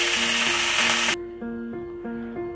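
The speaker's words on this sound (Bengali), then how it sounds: "তেলটি গরম হয়ে গেলে এবার আমি দিয়ে দিব চিংড়ি মাছগুলো।" Shrimp hit hot oil while frying for a Bengali shrimp bhorta, giving a loud, close, dense sizzle for about a second that cuts off abruptly, followed by a soft, steady, repeating tonal pattern.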